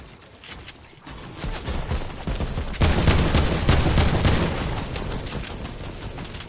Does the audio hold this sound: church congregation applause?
no